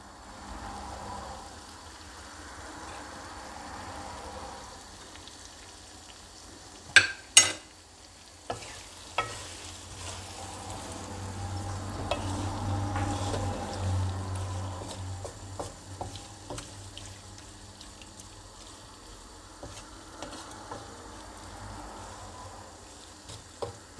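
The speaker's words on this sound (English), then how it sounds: "we're going to be frying this one for like, let me say 5 to 10 minutes" Shrimp sizzle steadily in a hot pan, punctuated by a few sharp utensil clinks and stirring scrapes, with no talking.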